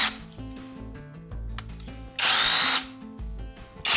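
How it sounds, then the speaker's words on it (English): A Dong Cheng DCZC04-24 cordless brushless masonry drill, with drill, rotary hammer and demolition modes, runs in short bursts with a whining motor, shifting pitch and a harsh, loud grinding stretch, close up with no voices. "It has a brushless motor, you've got 3 mode operation, drill, rotary hammer,"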